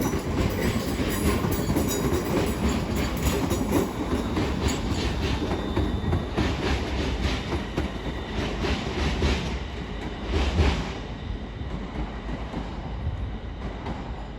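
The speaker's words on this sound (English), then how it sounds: "Now departing is the slightly delayed 1253 Avanti West Coast service to Manchester Piccadilly" An Avanti West Coast electric passenger train pulls away from London Euston with a steady mechanical hum and rhythmic wheel clatter, sustained and fairly close, fading slightly toward the end.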